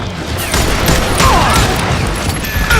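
Gunfire in the Western shooter Call of Juarez Gunslinger: a dense, continuous fusillade of overlapping shots and crashes, loud and close, sustained for the whole stretch without spoken words.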